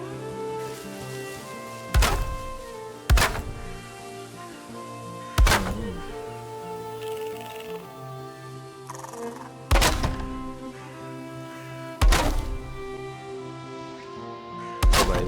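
Roof pieces snap into place while building in the game Valheim, about six hollow, heavy thunks spaced a couple of seconds apart over a soft ambient background music bed, with no speech.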